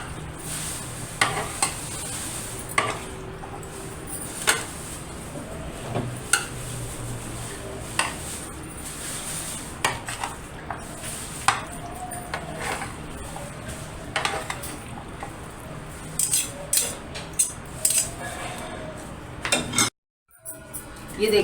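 A spoon mixes macaroni chaat in a bowl, producing repeated clinks and scrapes against the dish in an uneven rhythm, with a brief silence near the end.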